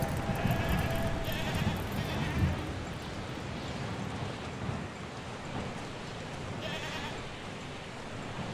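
A goat in the video game Mundaun bleats over a steady wash of rain with rumbling thunder beneath, the cries rising and falling at moderate distance.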